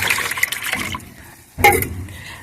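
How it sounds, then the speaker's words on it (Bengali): Rice-washing water is poured into two to three litres of water being mixed as an organic plant feed, a close splashing pour in two bursts with a short pause between them. "তার সঙ্গে আমি এই চাল ধোয়া জলটা আমি দিয়ে দেবো"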